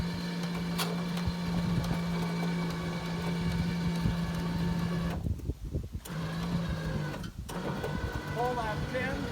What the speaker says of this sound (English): winch the bike the rest of the way up